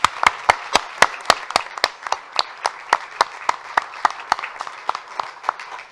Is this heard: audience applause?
yes